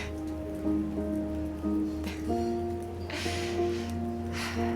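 Steady rain falls in the video game South Of The Circle, a continuous wet hiss with soft patters, layered under sustained musical tones with no talking.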